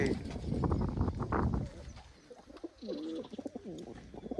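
Soft coos of black wild-type pigeons sound close by, with a person talking over the first part and cooing continuing afterward.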